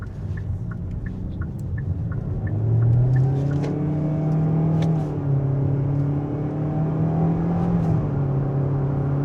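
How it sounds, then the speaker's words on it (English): A 2025 Kia Soul EX with a simulated-gear CVT accelerating in sport mode with the transmission in S, heard from inside as a steady engine rumble and whir rising in pitch, with no talk. "I want to put it into S for the transmission, and I want to put it back into sport and see how this car performs"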